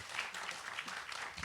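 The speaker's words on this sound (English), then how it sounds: "Another round of applause for these wonderful performers." Brief, faint applause from a concert audience for jazz-fusion performers, uneven clapping that swells and dips across a short burst, slightly distant.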